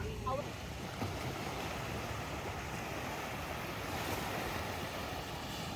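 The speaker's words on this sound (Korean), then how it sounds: "저는 가끔 그냥 밤바다에 누워서 밤바람 맞으며 파도 소리를 듣는데" Ocean waves wash steadily onto a beach at night in the Philippines, a continuous soft, even rush of surf and wind with no distinct breaks, heard alone and fairly faint.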